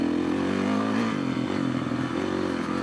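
Off-road motorcycle grinding along a rooty ORV trail in low gear, its engine droning loud and steady up close with slight rises and dips in throttle, plus some clatter and scraping.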